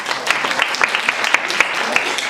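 An audience at an international business plan competition claps for a presenter, a brief burst of moderate applause with distinct individual claps audible throughout.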